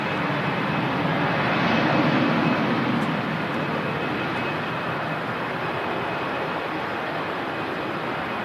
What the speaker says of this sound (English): Freebird departure.